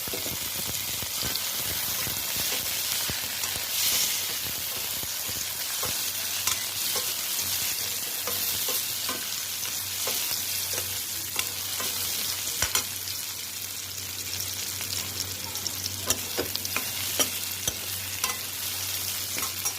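Onions fry and sizzle steadily in a pan for mango dal, with a spatula stirring through them in scattered scrapes and clicks under a constant hiss, close by and with no talk.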